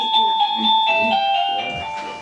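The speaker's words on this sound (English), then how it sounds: "That's the doorbell." An electronic doorbell chimes a sustained, tonal melody of a few bright notes, close and fairly loud, with faint background murmur.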